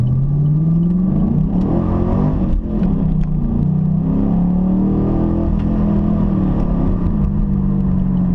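A Chevrolet Camaro SS engine idles at a light with a deep, continuous rumble heard loud and close. The pitch sways slightly throughout.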